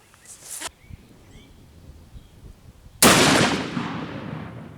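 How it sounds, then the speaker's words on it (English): A 500 Smith & Wesson Magnum Xtreme Penetrator round fires once, close and very loud, with a sharp report that rings off into a long fading tail after a few quieter outdoor noises. "Alright, 500 Smith & Wesson Magnum Xtreme Penetrator."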